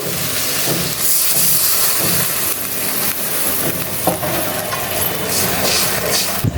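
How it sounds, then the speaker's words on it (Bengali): Water poured into hot fried spice masala in a pan while cooking a shrimp and egg curry, producing a loud, close, rushing hiss and sputter that holds steady for several seconds. "মশলাটা কষানো হয়ে গেছে তেল ছেড়ে দিছে আমি এখন দিয়ে দেবো ঝোলের জন্য জল"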